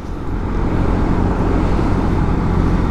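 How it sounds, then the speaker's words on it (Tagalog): A Kymco KRV Moto 180 scooter engine drones steadily while riding, a constant low hum mixed with road and wind noise, with no talking. "Laging gigil yung makina."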